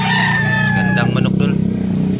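A yellow-legged bullstag rooster at a Cebu fowl sale crows loudly nearby, one long drawn-out call, with engine noise from passing vehicles and someone talking in the background.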